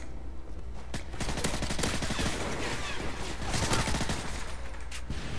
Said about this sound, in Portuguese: Opa, tá dando tiroteio aqui.